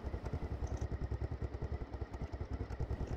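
A Honda CBF 500 motorcycle engine runs close by with a steady, rapid pulsing thrum at a constant pace, heard alone without talk.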